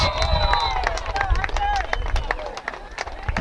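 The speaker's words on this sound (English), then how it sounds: "the crowd very appreciative of Hunter Mortenson's tackle" Crowd at a Port Edwards versus Oakfield high school football game cheers and claps after a tackle, a dense, steady roar of voices and applause with whistling tones, an announcer's voice talking over it.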